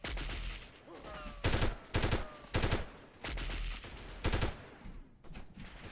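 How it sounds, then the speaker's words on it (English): Bursts of rapid gunfire in Delta Force (1998) in repeated volleys, loud and close, separated by short gaps, with a faint voice briefly audible. "I know there's gunfire coming from over here somewhere,"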